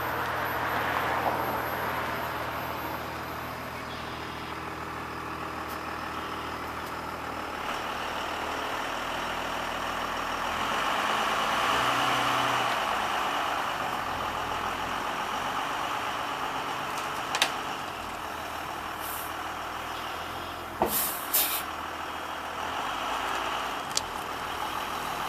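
A 2000 Blue Bird All American RE bus idles with a steady low diesel drone while its brakes air up, with a few short clicks and hisses near the end.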